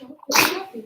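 A single sharp sneeze bursts out close by after a brief quiet intake of breath.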